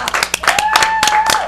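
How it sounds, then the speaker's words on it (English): Studio audience at a talk-show taping breaks into brief, close clapping with a sustained tone underneath, lasting just over a second. "Let's have a round of applause."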